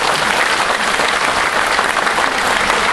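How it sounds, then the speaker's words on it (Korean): Steady, dense applause from a large crowd at a Korean political rally, continuous and loud throughout with no voices standing out. "여기서 박수 한번 보내주십시오"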